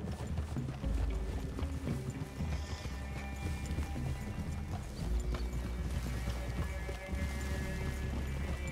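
Horses in Red Dead Redemption 2 walk with a steady clip-clop of hooves and an occasional snort or whinny over an outdoor ambience, with no talking.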